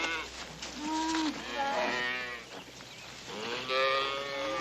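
A herd of cattle moos in several drawn-out, overlapping calls, fairly close and rising and falling in loudness with short gaps between them.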